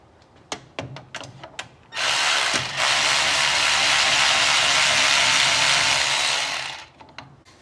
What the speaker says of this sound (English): let's go ahead and remove the 8mm bolt that is attaching the cooler line to the block